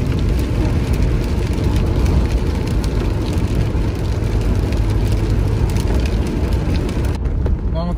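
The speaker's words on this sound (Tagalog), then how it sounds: "medyo tumila ng kaunti yung ulan natin" Rain pouring steadily outdoors in cold, wet weather, a loud dense broadband hiss that continues throughout and only eases slightly toward the end, with faint talk beneath it.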